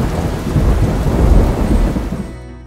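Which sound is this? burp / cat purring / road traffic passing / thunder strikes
thunder strikes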